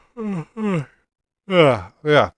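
A person yawns in a few drawn-out, breathy voiced bursts separated by short pauses, close and fairly loud, without other sounds behind.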